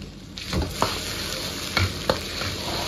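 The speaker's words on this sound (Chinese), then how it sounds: "现在把这个酱炒香啊" Northeastern soybean paste being stir-fried with tofu in a hot wok, a steady close sizzle with several sharp scraping strokes of the spatula against the metal.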